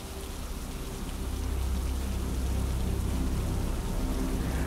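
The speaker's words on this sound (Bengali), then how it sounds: "ঝিরিঝিরি করে বৃষ্টি শুরু হলো।" Light rain drizzling down in a forest, a dense, even hiss of drops on surfaces that swells slightly after the first second and continues steadily, with no voices.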